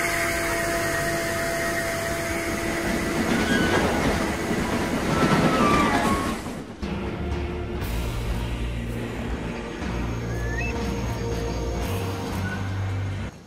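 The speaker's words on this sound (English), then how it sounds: "That train was not moving until we made a move." A train rolls through a snowy setting in the horror game Redemption Cemetery: Bitter Frost, a loud rumbling clatter with squealing wheels that cuts off abruptly, followed by a quieter low hum and faint tonal ambience.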